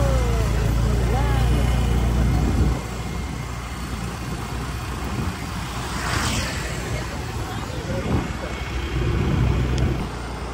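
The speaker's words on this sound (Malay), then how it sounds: "Kita naik motor." A motorcycle engine runs during a ride on Pangkor island, a steady close motor drone with wind rumble, easing in level partway through as voices talk over it.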